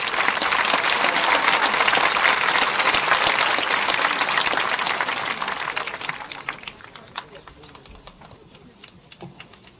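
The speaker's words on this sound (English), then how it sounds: "Another big round of applause." A graduation ceremony crowd gives a big round of applause, dense and loud at first, then thinning after about six seconds into scattered individual claps that fade out, with faint voices mixed in.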